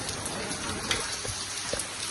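Heavy rain pours down close by in a steady, dense patter, with a few heavier drops striking a surface now and then. No one speaks over the rain.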